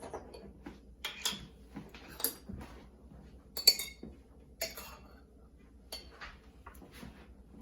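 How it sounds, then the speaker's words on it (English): A spoon scoops spaghetti sauce from a jar while making tortilla pizza, with close, quiet metallic taps and clinks that recur irregularly over a hushed background. "So with your spoon, you're gonna grab some spaghetti sauce."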